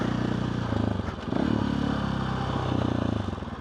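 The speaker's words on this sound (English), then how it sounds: "the like super buzzy kind of sound that's coming from like the handlebars" A motorcycle engine runs close by with a pulsing, throbbing low rumble and a harsh buzzy vibration from the handlebars, the beat wavering slightly as revs shift.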